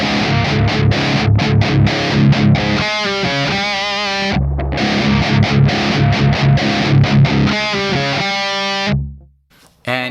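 A heavily distorted electric guitar plays a metal riff, loud and chugging with palm-muted bursts and ringing notes, cutting off abruptly near the end.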